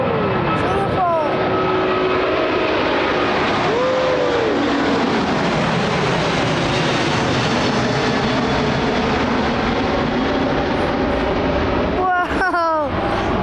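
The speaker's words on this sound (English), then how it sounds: "A380 Singapore" A Singapore Airlines Airbus A380 passes low overhead on approach near London Heathrow, a loud, broad engine roar that swells and fades over about thirteen seconds, with excited voices briefly cutting in at the start and end.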